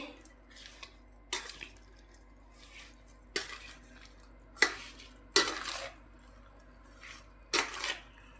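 A spoon scraping and clinking in a pot as oil is mixed into green chilli pickle, sparse metallic clinks with quiet stirring between them, close and soft.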